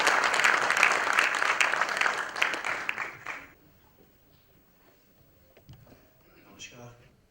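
An audience at a memorial tribute for the actor Om Puri bursts into loud, dense applause that lasts about three seconds and then cuts off, leaving quiet room noise with a few faint stirrings.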